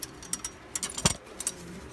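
A pouter pigeon, a molting hen, makes a brief low coo near the microphone, set among soft clicks and faint rustling around it.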